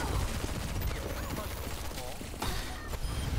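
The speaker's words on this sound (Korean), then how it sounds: "와 잘 쏜다" Gunfire in a video game, dense rapid shots and crackling bursts in a busy, loud mix that continues throughout with no pause.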